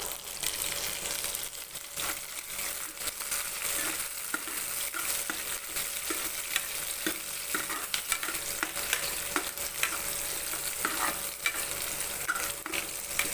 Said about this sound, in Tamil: இன்னும் கொஞ்ச நேரம் நல்லா வதங்கட்டும்